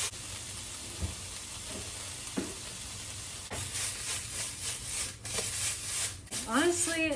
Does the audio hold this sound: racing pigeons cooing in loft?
no